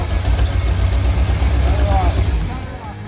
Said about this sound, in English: Steve adjusted the idle screw on the carb so the engine wouldn't rev so high